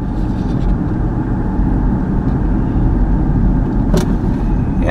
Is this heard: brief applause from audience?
no